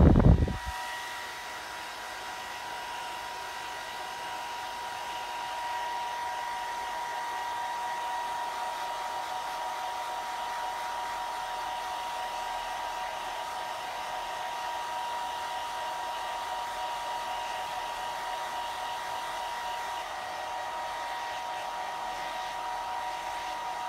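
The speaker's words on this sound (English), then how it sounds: "I'm going to stop talking now because this is going to be very noisy." A hair dryer drying a guinea pig blows steadily at close range, a constant whooshing roar with a whiny motor tone, running alone for the whole stretch after a brief click at the start.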